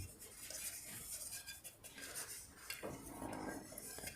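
A metal cake pan is rubbed with refined oil, giving soft scraping and light metallic clinks of the pan shifting against a surface, quiet and irregular in a home kitchen.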